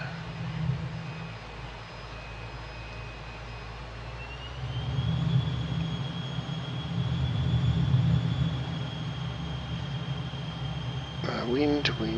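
Sustained jet engine roar of a McDonnell Douglas F-15 Eagle on approach with gear and flaps down near Grand Bahama Island in Microsoft Flight Simulator, a steady drone that swells midway with a faint high whine above.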